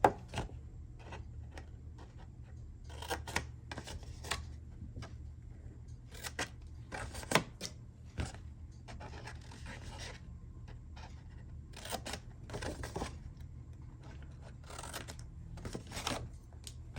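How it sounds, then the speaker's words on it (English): Scissors snip through paper card in quiet, close-up cuts, short crisp bursts coming at irregular intervals over a soft background hum. "I'm going to cut just right inside the score lines"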